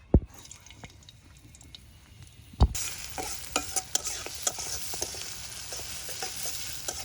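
Onions frying in hot oil in a village kitchen, a steady sizzle that swells sharply after a loud drop into the pan, with stirring clicks and spatters up close, no talking.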